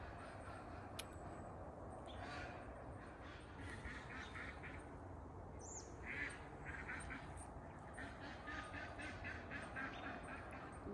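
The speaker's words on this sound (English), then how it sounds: "Not sure what those ducks are going on about." Ducks in a North Idaho garden in late July quack in a fairly distant, irregular chorus against a quiet outdoor background, with some calls louder and closer than others.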